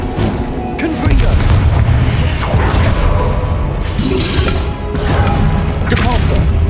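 Confringo spell blast in the video game Hogwarts Legacy: loud, booming explosive bursts with rumbling crashes over dense game effects, with in-game voices faintly underneath.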